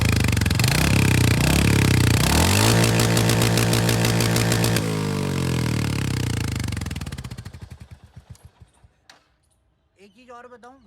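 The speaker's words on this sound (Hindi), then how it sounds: "ये है आइडियल पर, अब थोड़ा सा रैप देते हैं।" Royal Enfield Hunter 350 motorcycle engine revving up, a loud close throbbing roar that rises in pitch, holds, then drops back toward a rough idle and fades, with a brief voice near the end.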